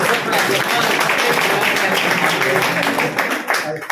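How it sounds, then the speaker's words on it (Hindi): At a village felicitation event, a crowd keeps up loud, dense clapping for several seconds, while a voice carries on over it before the applause thins near the end. "तालियां बजती रहे।"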